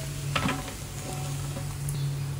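A spoon scrapes and stirs poha with sesame and coconut in a pan, a soft, steady rustling with a few sharper scrapes and a faint sizzle, close and quiet.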